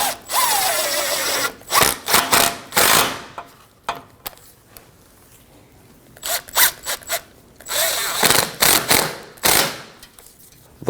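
A power tool snugs down bolts and hose clamps on a 2015-2024 Ford Edge 2.0L during a radiator and fan assembly swap, heard as repeated short whirring bursts broken by pauses and clicks, fairly close.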